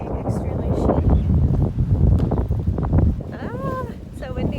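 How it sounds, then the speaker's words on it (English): Gusty wind buffets the microphone outdoors during a walk back from grocery shopping, a continuous rough rumble under brief speech, with a few faint bird chirps near the end. "so windy"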